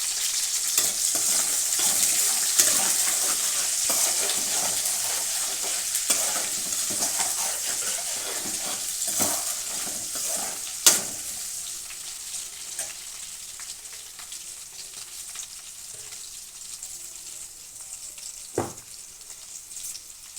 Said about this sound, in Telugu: పచ్చిమిరపకాయలు, ఉల్లిపాయ ముక్కలు వేసుకోవాలండి.